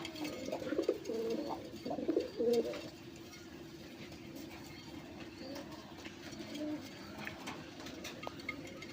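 Fancy golla and giribaz pigeons at a wholesale pigeon seller coo in a few soft, rounded bursts early on, then settle into a quieter, steady background murmur with faint scattered calls.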